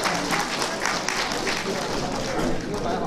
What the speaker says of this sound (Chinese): 我们以热烈的掌声欣赏他们的演出